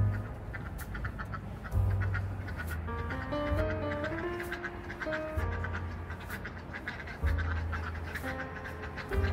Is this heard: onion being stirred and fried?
no